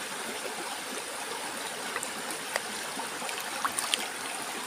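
Floodwater rushes along a swollen stream where eels and fish are being trapped, a steady close wash of running current with a few brief splashes and no voices.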